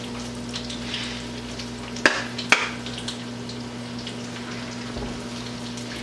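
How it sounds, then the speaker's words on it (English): Chicken pieces fry in hot oil for waffle-battered fried chicken, giving a steady, close sizzle with a couple of sharp pops and a low constant hum underneath, no talking. "as you can see, this is frying up real nice."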